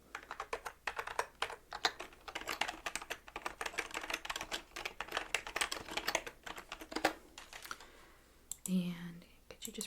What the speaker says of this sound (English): let me just retype that address